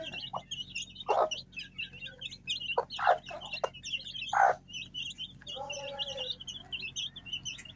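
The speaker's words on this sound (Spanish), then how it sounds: "Son 7 pollitos ya." Small chicks peep rapidly and continuously while hens cluck in short bursts nearby, close and fairly quiet with no speech.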